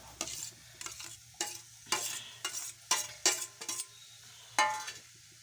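Tomatoes frying in hot oil for tempered rice, stirred in a pan with a steady low sizzle and a series of scraping, clinking stirs, close and loud, with no talking.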